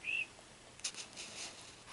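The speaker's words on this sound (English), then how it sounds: "What a weird bird making a weird noise." A bird gives an odd, short whistling call that repeats faintly a few times in a quiet outdoor morning.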